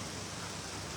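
Steady rain falls in Jakarta, an even, continuous hiss heard faintly and alone without breaks or voices.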